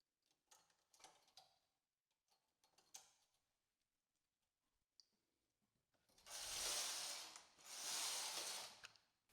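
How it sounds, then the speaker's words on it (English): Knitting machine carriage sliding across the needle bed for two rows of a cable heart stitch pattern, two loud sustained rattling passes close by after quieter ticking and clicking of needle work. "Make sure to put those needles back in action and knit 2 rows."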